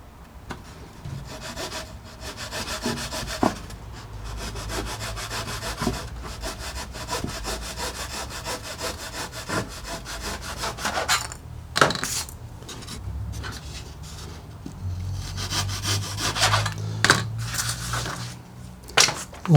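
Wood being sawn by hand to cut a wing part down to shape, repeated rasping strokes in an uneven rhythm, close and moderately loud, with brief pauses between bursts.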